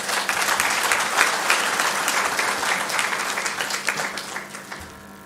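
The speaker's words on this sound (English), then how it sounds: "Another round of applause for him, please" A ceremony audience applauds at a customs day event, dense clapping that swells early and then slowly fades toward the end, filling a large room with no speech over it.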